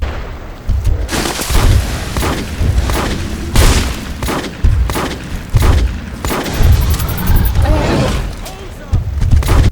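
A shotgun in the Starship Troopers PC shooter fires in heavy, spaced booms, roughly every second, loud and close over chaotic combat noise, with no voices.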